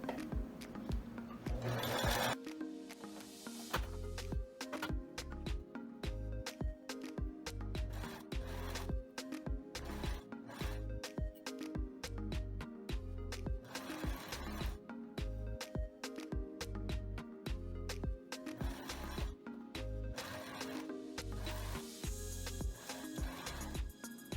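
A sewing machine runs a straight seam around a skirt waistband, its motor whirring in a steady rhythmic chatter of fast stitching bursts with short pauses, close and continuous.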